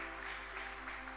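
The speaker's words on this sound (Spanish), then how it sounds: "¡Un aplauso para el que reina!" Sustained applause from a church congregation during a worship service, a steady dense clatter of hands that holds evenly throughout without breaks.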